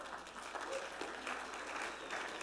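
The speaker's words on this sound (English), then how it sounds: "You're all clapping." Audience applause fills a symposium hall, a steady dense patter of many hands clapping at moderate distance throughout, with no voices over it.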